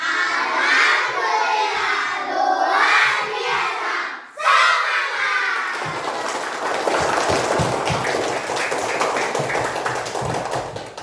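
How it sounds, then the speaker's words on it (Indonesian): A class of children shout and chant loudly together, then break into a burst of rhythmic hand clapping that carries on for several seconds, close and busy. "tepuk tangan yang kita lakukan tadi"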